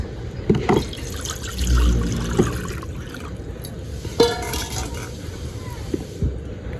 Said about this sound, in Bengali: প্রথমে দিয়ে দিব কড়াইয়ের মধ্যে জল